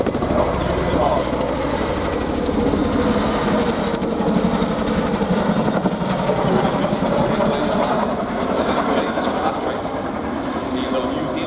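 Chinook twin-rotor helicopter flying at the RIAT airshow, a loud, steady rotor thrum and turbine whine filling the whole stretch, with a commentator's voice over the public address underneath.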